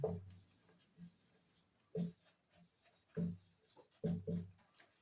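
Pen or chalk strokes drawing a CO2 laser diagram, heard as short, close, scratchy bursts separated by pauses, fairly quiet.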